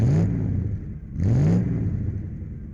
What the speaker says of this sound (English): we're going to take this 99 Auto for a drive and find out